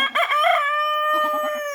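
A rooster gives one loud, close crow, a rising call that holds a long sustained note before a brief choppy tail.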